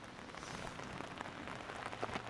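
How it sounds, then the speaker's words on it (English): Steady summer rain falls outdoors in Brazil, a soft, even patter with scattered droplet hits. It stays fairly faint and continuous, and no one speaks. "It's summer, but it's raining so much here"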